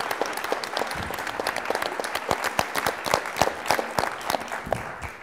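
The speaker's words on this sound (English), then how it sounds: "a round of applause, please, for our administrative team at CFI led by Susan Goins" Applause for an administrative team at an artificial intelligence history lecture: a modest audience clapping with distinct, sharp individual claps standing out over a softer background patter, fairly near and even throughout.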